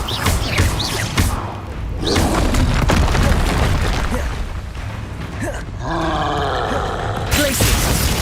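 Blasting spell fired in the wizarding video game Hogwarts Legacy, booming impacts and rumbling bursts amid continuous battle noise, with a brief creaking tonal sweep near the end.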